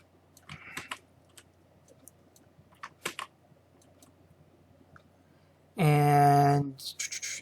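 A computer keyboard is used to enter a login on a Nortel BCM50 phone system, with sparse, faint key clicks spread out over quiet room tone, followed by a louder electronic tone near the end.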